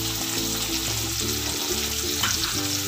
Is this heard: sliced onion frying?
yes